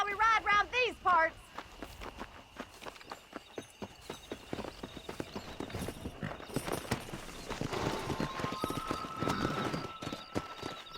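Horse hooves clip-clop in Red Dead Redemption, starting as a steady walking beat and quickening into galloping as riders set off. A short neigh comes at the start, and voices talk over the ride.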